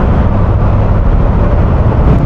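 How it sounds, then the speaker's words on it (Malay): A lorry rolls off a ferry onto the landing, a loud, steady low rumble of engine and heavy wheels close by with no pauses. "Nak bagi lori pergi dulu."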